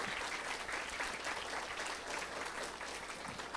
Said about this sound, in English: So give them a round of applause for all they've done for today.